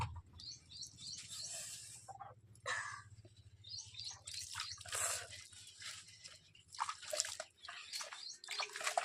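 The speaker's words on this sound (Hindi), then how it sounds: "तो अभी मैं पानी भरूँगी।" Water runs into a container during a village morning, a fluctuating splashing and trickling stream heard at moderate distance over a low background hum.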